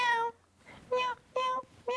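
Person imitating a cat, several short nasal meows in a halting rhythm with silent gaps between them, close and fairly quiet.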